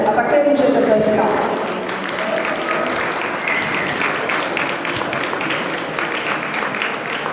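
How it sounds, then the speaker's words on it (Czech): Audience applause fills a dog show arena during the FCI Group 9 judging of companion breeds such as Lhasa Apso, Shih-Tzu and Pekingese, with steady clapping throughout, loudest in the first second or so. "A také můžete tleskat."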